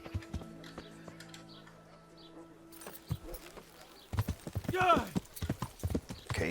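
Horse hooves clip-clopping in the medieval video game Kingdom Come Deliverance, quiet at first under game ambience, then louder and busier rhythmic hoofbeats in the second half, with someone talking over them.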